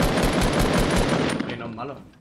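Rapid automatic gunfire rattles in Fortnite, a loud, dense burst of rounds that thins out toward the end, with a player's voice partly audible alongside.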